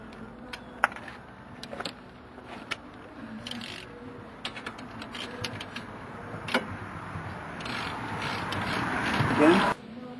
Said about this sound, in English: And now reattach the caliper to the carrier.